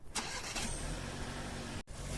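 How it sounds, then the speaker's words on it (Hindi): A car engine idles as it warms up on a very cold day near Canmore in the Canadian mountains, a steady close rumble heard from inside with a brief dropout near the end and no voices. "अभी हमारी गाड़ी थोड़ी हीट हो रही है"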